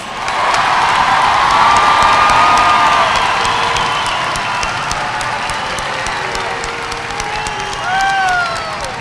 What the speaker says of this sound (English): let's give a great round of applause to our graduates and their families.